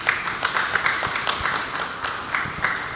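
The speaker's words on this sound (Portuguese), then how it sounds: "Vamos então aplaudir os nossos visitantes e dizer bem-vindos?" A church congregation at a Sunday evening service claps to welcome visitors, a close, moderately loud patter of many hands with some sharper individual claps for a few seconds.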